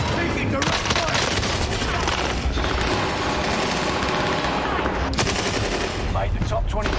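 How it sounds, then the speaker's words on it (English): Dense, continuous gunfire in Call of Duty Warzone, automatic bursts layered into a loud, unbroken barrage over the full stretch, with a few sharper blasts standing out and faint voices underneath. "Taking direct fire!"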